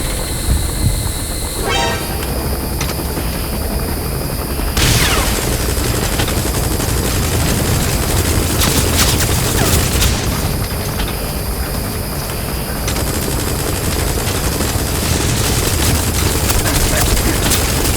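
Sustained gunfire and missile blasts against an attack gunship in Metal Gear Solid V: The Phantom Pain, loud and dense throughout with a sharp burst near the start and repeated heavy impacts rolling on without pause.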